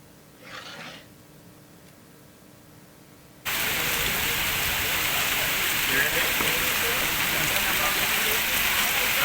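Heavy rain pours down in Andhra Pradesh, starting abruptly after a quiet opening and then continuing as a loud, steady hiss and patter of drops on surfaces.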